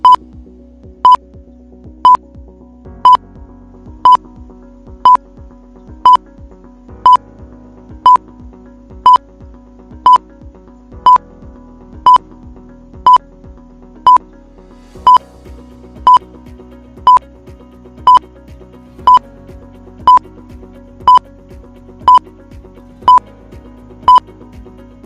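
A thirty-second countdown timer beeps at an even one-per-second pace, each short, sharp electronic tone loud and clean over a faint low musical hum, with no voices.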